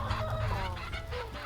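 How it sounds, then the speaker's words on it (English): A flock of chickens clucking excitedly close by during rabbit butchering, a busy overlapping chorus of short calls throughout. "You can hear my chickens, they're very excited now."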